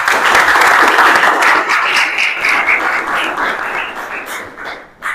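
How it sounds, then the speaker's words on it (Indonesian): Steady, loud applause from a class audience, a dense wash of many hands clapping together that holds for several seconds before tapering off at the end. "Oke, tepuk tangan untuk kalian semua"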